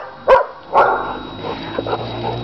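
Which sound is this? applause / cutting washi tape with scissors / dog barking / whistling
dog barking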